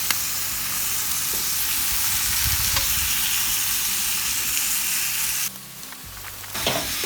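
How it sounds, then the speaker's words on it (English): Double smoked thick cut bacon sizzling loudly in a cast iron pan, a steady close crackling hiss throughout that briefly drops near the end. "We've got double smoked thick cut bacon here. Drop this down in the cast iron."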